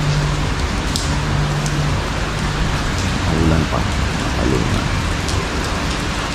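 Steady rain falls in a dense, even hiss throughout, with faint distant rumbles and a few brief tones beneath, no one speaking.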